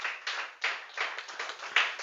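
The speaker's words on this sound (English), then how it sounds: "clap for them" Rhythmic clapping from an audience at a school debate competition, a series of distinct, fairly close claps in a loose, steady beat.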